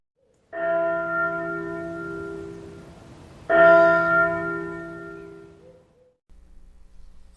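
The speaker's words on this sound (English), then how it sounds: "I heard a short ring on my doorbell." A two-tone doorbell chime rings out clearly, with two resonant strikes a few seconds apart, each ringing on and fading slowly, followed by a low background hum.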